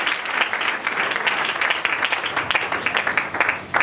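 A church congregation breaks into loud, steady applause, many hands clapping together in a close, sustained wash with faint voices beneath.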